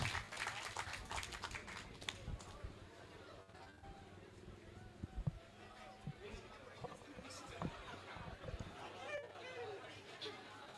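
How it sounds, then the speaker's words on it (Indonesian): Audience applause at a public discussion event in Lampung: a steady wash of clapping from a crowd, mixed with chatter and murmuring voices, with occasional sharper individual claps standing out. "Boleh tepuk tangan?"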